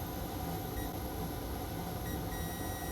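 A digital multimeter in continuity mode gives a steady electronic beep while probing between a filter and a connector on a circuit board, a constant tone sitting in a bed of hiss.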